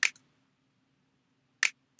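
A sampled finger snap layered into a future bass beat sounds twice, crisp and isolated, with a long quiet gap between the two dry clicks.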